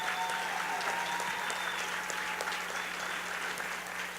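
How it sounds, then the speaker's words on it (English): Applause from an awards ceremony audience at a Hispanicize 2014 event, a steady, even wash of clapping throughout with a faint tonal hum beneath and no voices. "I want to give them an enthusiastic, heartfelt applause"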